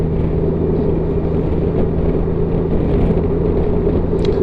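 A car driving around an island near East Church, a steady low engine and road rumble from inside the cabin, constant and fairly loud with no voices.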